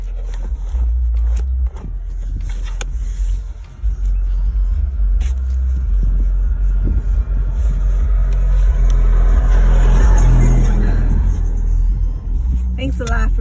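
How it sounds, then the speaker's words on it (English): A car passes by outside, its low road rumble swelling to a peak and then fading, under a nearby person talking. "That car that just passed."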